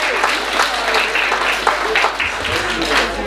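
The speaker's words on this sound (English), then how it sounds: "Can I have a round of applause for Margaret and Margot, please?" Wedding guests at the reception speeches applaud the two grandmothers, a full, steady round of clapping from a roomful of people, with voices mixed in underneath.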